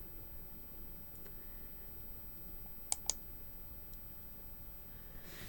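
Computer mouse clicking to open an online entertainment reporting form, two quick sharp clicks close together in the middle over a faint steady hiss, otherwise quiet.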